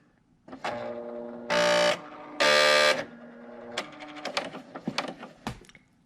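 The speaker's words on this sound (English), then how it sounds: "When you turn on your machine, the first time that you start stitching, it's going to make this noise." Bernina serger on its first stitch after power-on makes its setup noise: two loud, steady buzzing tones, each about half a second long, followed by rapid mechanical clicks and taps close by.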